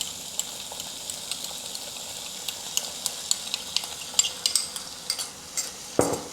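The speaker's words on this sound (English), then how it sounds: "And now I add the sauce that we have just constituted into the pan." Vegetables sizzle in a hot pan as sauce goes in, giving a steady broad hiss with scattered light clinks and scrapes of stirring, then a louder burst of sizzle near the end.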